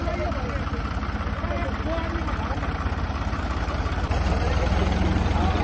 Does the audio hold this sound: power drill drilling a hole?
no